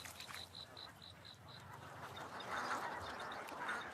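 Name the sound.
ducks in a rice field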